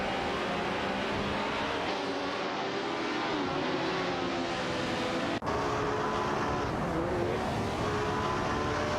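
Race car engines from an AI racing simulation game, Honda RA300 and Matra MS7 among them, drone continuously and loudly with layered revving pitches and a brief sharp click midway.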